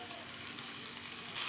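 Momo filling with green chilli and soy sauce sizzles as it is stirred in a pan, a soft, steady frying hiss for a moment with no one talking.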